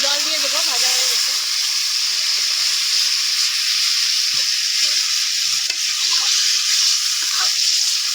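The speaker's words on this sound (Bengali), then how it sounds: "আমি জল দিয়ে দেবো, ভাজা হয়ে গেছে।" Cooking at an outdoor family picnic beside a forest stream, a frying pan hisses and sizzles loudly and continuously as water goes into hot oil, with soft stirring clinks underneath.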